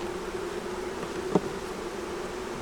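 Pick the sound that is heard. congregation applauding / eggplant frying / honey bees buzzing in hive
honey bees buzzing in hive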